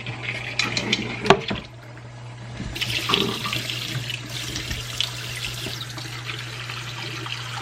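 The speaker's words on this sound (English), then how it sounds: "Now we're going to add some water." Kitchen tap running steadily as water pours into a pot of cleaned meat for a Southern soul food dinner, with a few clanks at the start and a constant rushing flow close by.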